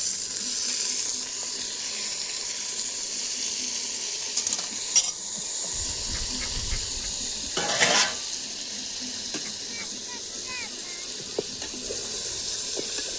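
Onion, tomato and mint sautéed in a pan, a steady hiss of sizzling oil with occasional clinks and scrapes of stirring, no talking.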